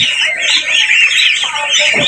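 A crowd of goose goslings at a goose farm peep continuously, a dense, high chirping chorus close by, with no talk over it.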